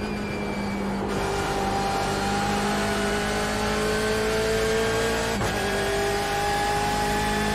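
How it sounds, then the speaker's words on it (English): BMW M8 GTE race car engine in the iRacing sim, a steady loud drone holding high revs with rising pitch sweeps and a brief shift blip near the middle, continuous and alone without talk. "God, this car sounds amazing."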